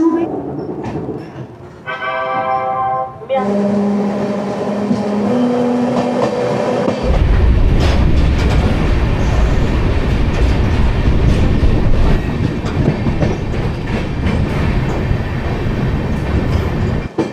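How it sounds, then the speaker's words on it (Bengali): Amrit Bharat Express on the Sealdah to Varanasi route running on rails, with loud, continuous rumble and rhythmic clatter that swells after a few seconds, preceded by tonal hums, close and steady throughout. "আমরা অমৃত ভারত এক্সপ্রেসে করে জার্নি করছি আজকে"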